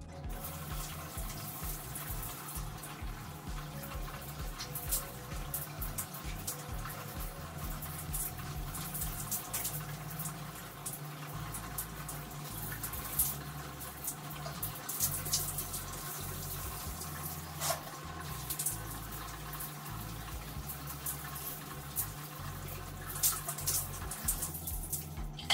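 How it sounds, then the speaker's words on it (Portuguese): Shower water running steadily while conditioner is rinsed from hair, a continuous close hiss and splatter with no talk, lasting throughout. "E só enxaguar."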